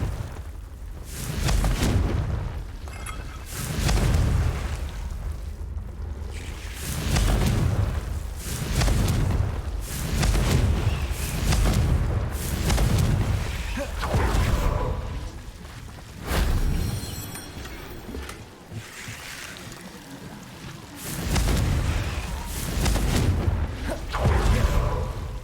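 Repeated Confringo blasts from the explosive spell in Hogwarts Legacy, a loud series of booming bursts and whooshes that recur every couple of seconds through a continuous battle din.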